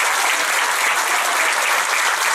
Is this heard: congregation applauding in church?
yes